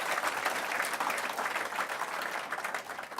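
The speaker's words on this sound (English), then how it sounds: "They deserve another big round of applause." An audience applauds knuckle dancers at an official opening event in the City of Logan, dense steady clapping from a large crowd filling the whole moment at fairly loud level.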